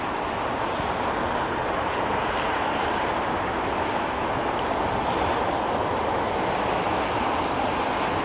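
Jet aircraft landing on Heathrow runway 27R in wet, windy weather, a steady broad rushing roar at moderate level, constant throughout with no distinct peaks, wind and engine noise blended, no voices.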